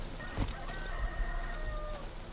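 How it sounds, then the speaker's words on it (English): Chickens cluck and a rooster crows in the horror survival game Darkwood, with a drawn-out crow sitting over a steady bed of ambient game noise. "Oh, chickens, huh?"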